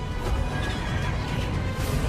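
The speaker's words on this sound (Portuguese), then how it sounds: "Olha o cavalo lá" A horse neighs in an Elder Scrolls Online trailer, heard through a noisy mix of game sound with crashing and hoof-like clatter and no talk.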